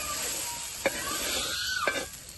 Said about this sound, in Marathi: आता आपण टोमॅटो चांगले भाजून घेऊ